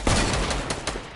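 Gunfire from Fortnite plays in a brief, loud burst of several rapid shots close up, with no talking.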